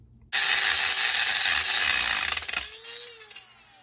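Close, loud whirring ratchet tightens a part on a Husqvarna 120 Mark II chainsaw in one sustained burst of about two seconds, ending in a few sharper clicks as it slows.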